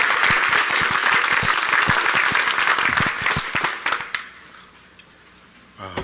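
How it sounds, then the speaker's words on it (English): An audience at a DEF CON hacker conference talk bursts into loud, sustained applause that gradually thins out and fades to scattered claps. "we'll all give them a round of applause ourselves"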